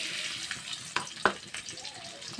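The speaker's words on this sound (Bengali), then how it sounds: "তেলটা আমার গরম হয়ে গেছে। রসুনের কোয়া দিচ্ছি" Garlic cloves drop into hot oil in a pan while cooking dal with sajne (drumstick) leaves, giving a steady, soft sizzling hiss broken by a couple of brief crackles.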